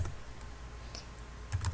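Computer keyboard keys tap in a short burst while a Ruby on Rails command is entered, a few soft clicks followed by a quicker cluster of close keystrokes, no voices.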